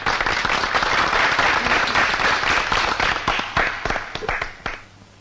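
Applause from an audience at a college prize ceremony, a dense steady clatter of many hands clapping that thins out and fades in the final second.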